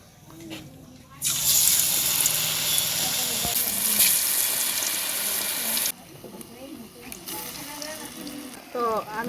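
Batter-dipped eggplant slices dropped into hot oil, a loud bright sizzle bursting in after a quiet start and holding steady for several seconds, then cutting off to softer kitchen clatter and a brief renewed hiss near the end.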